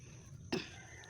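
One short, sharp cough from an ill elderly woman breaks through a quiet room, close and abrupt, with faint background hum before and after.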